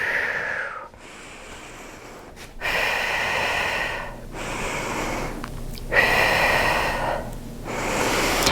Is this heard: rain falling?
no